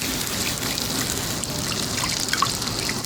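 Milk pouring from a measuring cup into gravy on a Blackstone griddle, a steady close liquid trickle that runs throughout with no talk.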